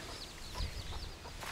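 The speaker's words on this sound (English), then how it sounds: "There's loads of chickens with the little chicks." Chickens with small chicks on the bank of the Mekong River in Luang Prabang, Laos, giving soft clucks and chirps amid low outdoor background noise, faint and somewhat distant.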